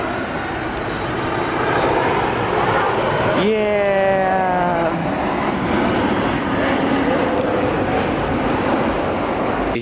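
Southwest airliner flying overhead, a loud continuous jet roar over outdoor background noise with a rising whine near the middle, while a person says a brief word.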